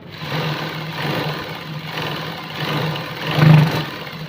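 Sewing machine stitching the sleeve fitting of a simple suit, a steady mid-pitched motor hum running in repeated bursts with a louder surge near the end, no voices.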